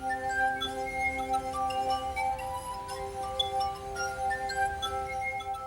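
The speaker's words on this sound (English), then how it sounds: "out of this very ordinary glass comes an extraordinary sound that is within the glass all the time" Sustained, ringing tones sound from a glass harp played on ordinary drinking glasses, several clear pure pitches overlapping and shifting like a slow melody, heard alone at moderate volume.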